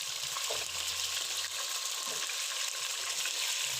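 Meat frying in oil in a pan for mash sorpa, a mung bean soup, gives a steady, dense sizzling hiss close by with faint soft clinks and no talk.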